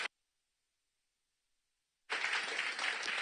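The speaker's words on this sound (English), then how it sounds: "Clap it up for one more time." Audience applause at an accelerator demo day for a startup cohort, breaking out after a short silence and continuing as steady, fairly close clapping to the end.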